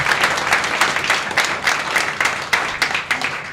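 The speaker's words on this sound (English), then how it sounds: "how about a nice round of applause?" A dense, loud burst of audience applause at a Detroit Red Wings playoff faceoff event holds steady for several seconds, with many hands clapping at once and no speech over it.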